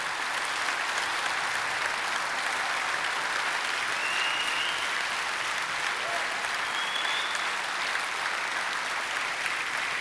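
Audience applause at a Kentucky church gathering, a steady, even wash of clapping from a crowd lasting the whole ten seconds, with faint whoops rising here and there.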